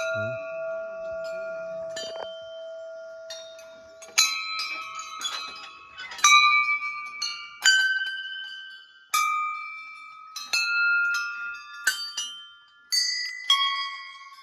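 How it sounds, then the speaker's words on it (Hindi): Many temple bells offered by devotees at Tarkeshwar Dham in Uttarakhand ring one after another, each bright metallic strike leaving a sustained shimmering tone that overlaps the next, fairly close and clear. "ये सब घंटियाँ श्रद्धालुओं ने चढ़ाई हैं"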